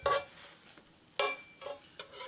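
Bologna and egg frying on a hot pan, worked and pressed with a spatula: two sharp scraping strokes over a soft steady sizzle, close and fairly quiet.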